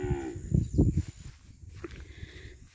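Cattle moo in a farm corral, a couple of low, drawn-out bellows close by early on, then quieter shuffling and faint animal sounds.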